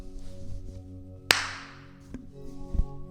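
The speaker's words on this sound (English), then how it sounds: "Just if I clap like this," A single sharp hand clap rings out in a large room, and its echo trails off over about a second, with softer knocks and background noise around it.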